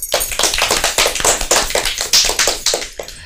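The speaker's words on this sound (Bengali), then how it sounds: "সবাই মিলে ওর জন্য জোরে হাততালি হোক" Children clapping for a poem recitation, a quick burst of uneven, close applause from a small group that runs for a few seconds and then stops.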